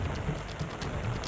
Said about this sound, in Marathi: विरारमध्ये मुसळधार पावसानं हजेरी लावली